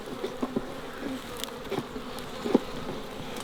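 Honey bees buzz around a swarm trap outdoors, a steady close drone with brief louder passes as individual insects fly near, no talking.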